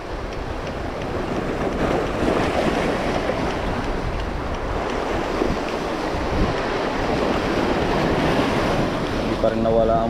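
Strong ocean waves at sea surge and wash continuously with heavy wind buffeting the microphone, a loud, steady roar of surf and water throughout, no talking.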